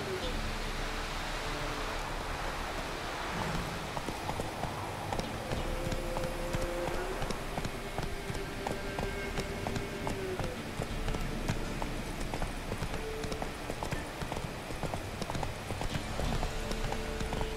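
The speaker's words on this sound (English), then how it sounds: "Siempre apareces cuando más falta me haces, Sardinilla. Eres un caballo fiel." Hooves of a horse clip-clop steadily at a gallop in The Witcher 3, a continuous rhythmic pounding layered over game ambience and a wash of noise, with someone talking briefly over it.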